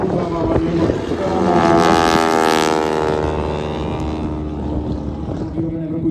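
Grumman G-164 Ag-Cat biplane, built 1973 and modified in 1992, flying past at an airshow on its radial engine: a loud, steady roar with a strong propeller drone that swells as it passes close, then eases slightly, with a commentator's voice underneath.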